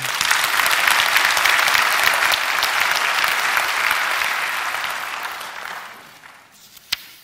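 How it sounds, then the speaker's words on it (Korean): Church congregation at Yanggok Church in Changwon bursts into loud, dense applause that holds steady for about six seconds, then fades out, followed by a single sharp knock just before the end. "아내한테 박수 한번 해주세요"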